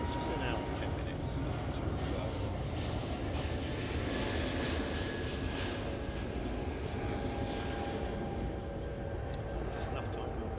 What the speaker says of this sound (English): Now let's just watch this take off.